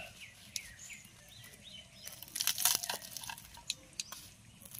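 Crispy fried chicken mughlai paratha being cut into small pieces, with a few light crackling crunches clustered midway over a quiet kitchen background.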